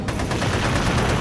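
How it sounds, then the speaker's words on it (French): Machine gun fire in a French audio drama, a dense, loud continuous burst of rapid automatic shots that fills the whole moment. "que Lance, armé de son énorme mitrailleuse, détruisit un à un."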